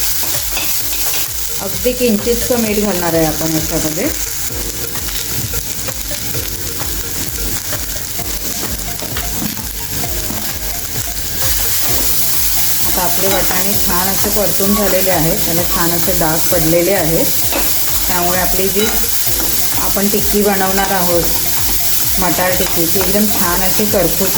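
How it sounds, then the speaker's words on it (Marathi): Green peas sautéing in a pan over medium heat, a loud continuous sizzle with repeated scraping strokes of stirring, and someone speaking over the cooking throughout. "छान असं मिडियम गॅसवरती ना वाटाण्याला डाग पडेपर्यंत असं आपण छान असं हे परतून घेणार आहोत"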